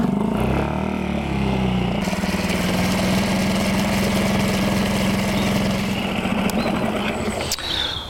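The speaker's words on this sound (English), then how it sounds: "we're going to get the engine running and get the oil nice and warm" A small four-stroke outboard boat engine runs at a steady idle while warming its oil, a loud, continuous, close throb with a brief shift in pitch early on and a few faint clicks near the end.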